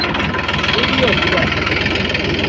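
A tractor engine idles in a castor field with a steady, low chugging rumble that runs unbroken throughout.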